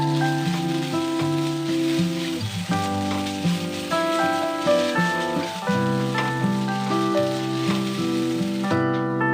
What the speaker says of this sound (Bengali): এগুলো একটু হালকা ফ্রাই করে নেব।